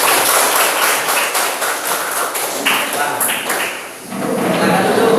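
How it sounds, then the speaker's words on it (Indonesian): A classroom of pupils clapping their hands together after a teacher's exercise, a dense run of sharp claps with a brief dip before resuming, talk mixed in. "beri tepuk tangan untuk kalian"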